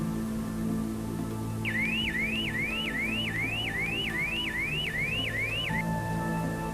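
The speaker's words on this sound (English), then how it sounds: "the intruder alarm," A car intruder alarm wails in a rapid repeating rising siren pattern for about four seconds over a low background hum, then stops.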